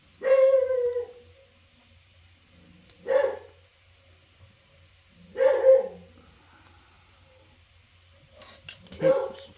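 A dog barks in four separate bursts spaced a few seconds apart, each fairly loud and close, with quiet gaps between them and a faint low hum underneath.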